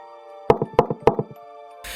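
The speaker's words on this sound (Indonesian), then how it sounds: "tiba-tiba suara ketukan itu kembali terdengar sangat keras dari area ruang bawah tanah" Three loud knocks spaced evenly, each followed by a few softer echoing thuds, coming from a basement in a house, then a short burst of noise at the end.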